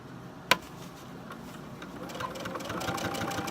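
A sewing machine stitching a hem on shorts hums quietly and steadily after a single sharp click, its motor running without pause.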